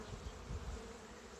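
Honeybees crawling on a hive frame give a faint, steady buzzing drone with low flickers of wingbeats, close and uninterrupted.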